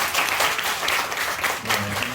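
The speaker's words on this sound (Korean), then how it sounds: "우리 반갑다고 박수 한번 하겠습니다." A church congregation claps together in steady applause for about two seconds during a Sunday service, a dense patter of hands fairly close by, with a low hum of voices underneath.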